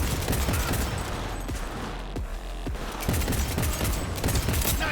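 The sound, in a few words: gunfire in the video game Cyberpunk 2077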